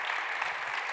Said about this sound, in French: on peut les applaudir évidemment